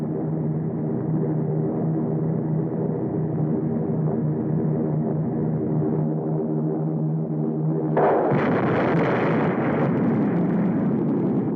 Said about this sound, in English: The atom bomb has been dropped on the United States of America.